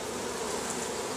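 Honeybees buzz during a package install, a dense, steady hum of many insects close by with no pauses.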